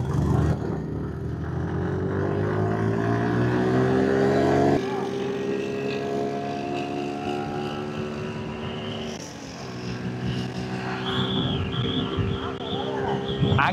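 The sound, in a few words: Royal Enfield Hunter 350 and Suzuki Gixxer motorcycles racing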